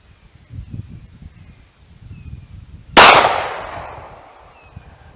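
A single .38 Special PPU 158-grain round fired from a short barrel gives one sudden, loud, sharp crack that rings off into a decaying tail, after quiet low rumbling background.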